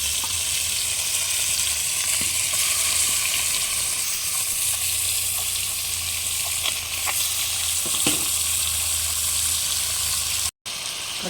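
Marinated ravvu fish pieces hit hot oil in a pan for a fish curry, producing a loud, continuous close-up sizzle with occasional crackles and brief stirring knocks.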